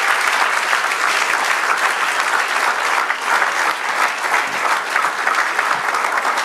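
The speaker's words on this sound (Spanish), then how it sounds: "Dar un aplauso al Señor." A church congregation claps together, a dense, loud and steady wash of applause sustained throughout without pause.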